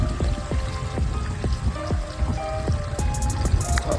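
Water gushes steadily as an RV kitchen tank is flushed, a continuous pouring rush with gurgling spatters, close and fairly loud with no talking.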